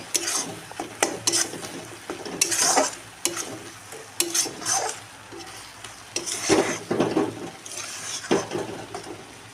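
Shidol chutney being stirred in a pan, with repeated scraping strokes of a spoon against metal and soft sizzling between them, close up and irregular in rhythm, no voices.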